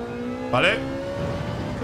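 A GT3 race car in Gran Turismo 7 approaches with a rising engine whine that sweeps up sharply in a brief loud burst, then settles into a steady drone as a player's engine keeps humming.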